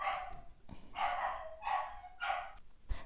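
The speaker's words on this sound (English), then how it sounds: "it was my dog yapping again" A small dog yaps indoors during a knitting podcast, several short high-pitched barks in quick succession, fairly close and moderately loud, with no talking over them.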